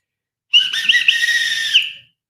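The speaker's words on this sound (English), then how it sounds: "Oh, wait, I found my whistle." A handheld whistle is blown once in a single sustained shrill tone of about one and a half seconds, loud and close, with slight wavering before it cuts off.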